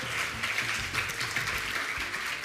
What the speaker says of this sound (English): give a round of applause to all the participating students